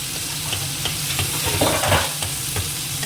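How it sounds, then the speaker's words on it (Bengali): A fish head frying in hot oil, with a loud, dense, continuous sizzle and crackle and scattered sputtering pops close up, with no speech. "মাছের মাথাটা একদম লাল করে ভাজা হয়ে গেছে পট পট করে খাচ্ছে"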